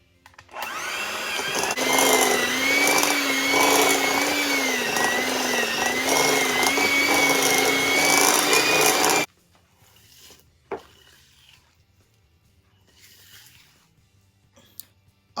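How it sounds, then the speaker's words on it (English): An electric mixer on medium speed creams butter, margarine, white sugar and packed light brown sugar for cherry white chocolate chip cookies, a steady loud whirring drone with a wavering pitch that runs for about nine seconds and then cuts off. "we're going to cream these on medium speed until they're fluffy"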